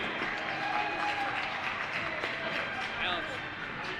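A gym crowd at a girls' varsity high school basketball senior night gives a steady round of applause for a senior player and her family, sustained and fairly loud throughout, with voices mixed in.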